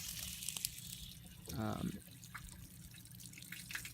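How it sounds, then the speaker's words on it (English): Hot water from the heater runs out of an outdoor tap on a school bus tiny house conversion, a quiet steady splash with a brief louder gush midway. "this is coming from the hot water heater, so I can have hot water out here if I so choose for outside showers"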